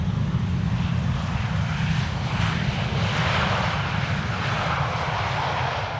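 An Airbus A321neo airliner lands on the Polderbaan runway 18R at Amsterdam Schiphol with a steady, loud jet engine roar that holds evenly throughout, heard close and with no voices.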